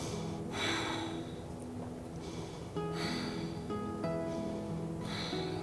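Deep breathing during a warrior-pose yoga session, with several slow, audible inhales and exhales rising over soft, steady background music.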